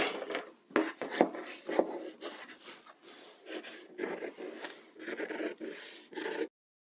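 Scissors cut out muslin fabric sleeve pieces in a series of close, quiet rasping snips and rustles, repeating unevenly and then stopping abruptly.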